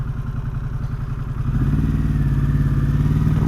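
A Harley-Davidson Pan America 1250 Special motorcycle pulls away, its engine idling with a rhythmic, throbbing pulse, then rising in pitch and volume as it accelerates, close and loud with no talking.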